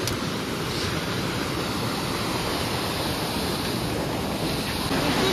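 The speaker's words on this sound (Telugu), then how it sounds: "First water falls." Steady roar of a waterfall in the Tatra Mountains near Zakopane, Poland, a dense continuous rush of falling water with some wind noise, loud and unbroken throughout with no voices.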